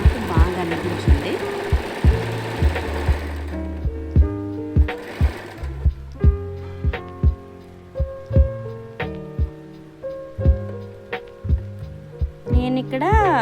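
Sewing machine stitching embroidery, running in a fast continuous hum at first, then slowing into separate thumping stitches spaced about half a second apart, loud and close, with a brief whir at the end.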